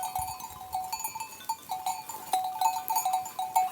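Kıvırcık sheep and lambs bleat in a village pasture, with repeated nasal calls from several animals at close to middle distance and a bell clanking among them.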